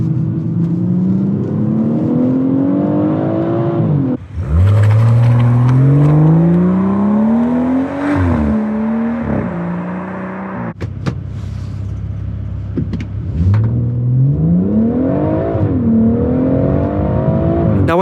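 A BMW M140i accelerates hard through several gears, its engine note climbing in loud, close sweeps, easing off between shifts and pulling up again, with no voices.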